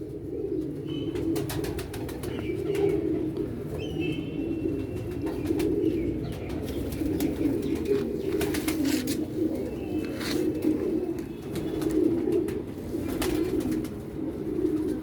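A pigeon coos in soft, low, repeated calls over a steady background hum, with occasional faint chirps and no talking.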